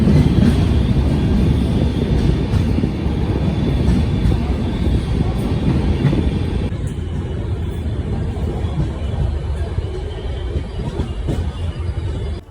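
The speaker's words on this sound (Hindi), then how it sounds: "अराइविंग करते हुए Barmer superfast express 1 number platform पर" Barmer Superfast Express pulling into platform 1 at an Indian railway station, a steady loud rumble of wheels and carriages rolling past close by, easing slightly in the second half.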